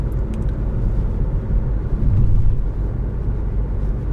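Nissan Tekton engine pulling through an in-gear acceleration, a steady low rumble inside the cabin that swells slightly midway and stays continuous, with no voices.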